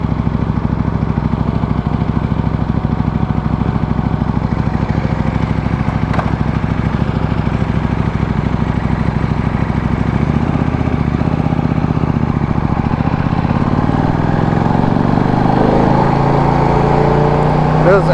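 A KTM motorcycle engine idles and revs steadily at close range, its note rising and falling toward the end, with a voice speaking over it.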